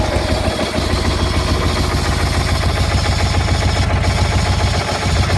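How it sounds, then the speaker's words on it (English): Replacement engine on a GT 6000 garden tractor running after a cold start without choke, a loud steady putter with a fast even chug and rattling vibration, close to the machine. "I'm not gonna give it any choke and see if it'll start."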